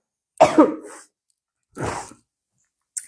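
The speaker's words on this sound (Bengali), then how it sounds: "ঠান্ডা লেগে খুবই খারাপ অবস্থা হ্যাঁ এই জন্য একটু কাশতেছি" A person with a cold coughs up close: two harsh coughing bursts separated by a pause, with the start of a third at the very end, and no talking.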